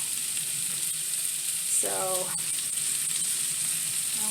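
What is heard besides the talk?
garlic frying in a pan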